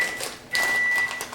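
A microwave timer sounds a single steady electronic beep lasting about half a second, fairly soft against quiet kitchen background noise.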